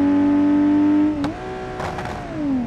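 A BMW E36 engine with an exaggerated exhaust in BeamNG.Drive drones steadily. It drops as the revs fall, with a brief gear-shift crack, then climbs again, loud and close with no talking.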